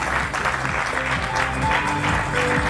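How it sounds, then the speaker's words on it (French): An audience at a French economic conference applauds warmly for a departmental council president, steady close clapping layered over a loud low music bed. "Merci d'applaudir très chaleureusement."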